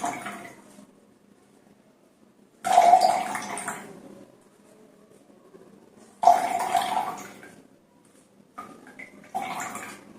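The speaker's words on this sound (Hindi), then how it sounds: "तो चलिए, अब हम इसे अच्छे से छान लेते हैं।" Ground amla juice poured and pressed through a kitchen strainer, heard as three separate bursts of close, splashy liquid pouring and dripping with quiet pauses between them and no talk.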